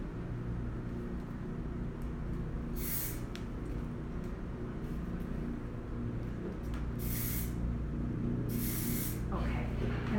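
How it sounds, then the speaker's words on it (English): Shine spray misted onto a styled chignon in short hissing bursts, three or four quick sprays over a steady background hum. "shine spray"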